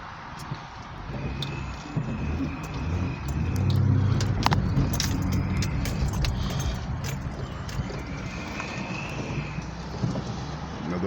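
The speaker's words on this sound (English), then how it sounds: "Another white car." A car drives past on a road, a steady engine and tyre rumble swelling and fading over about ten seconds, with faint clinks and rattles nearby.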